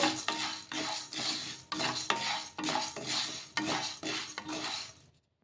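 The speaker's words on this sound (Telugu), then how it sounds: "ఇలా ఈ సగ్గు బియ్యాన్ని ఒక 2 నిమిషాల పాటు వేయించేసుకుందాము." A utensil scrapes and stirs rhythmically as sago pearls roast in a dry pan, steady repeated strokes close up, no talking, ending abruptly.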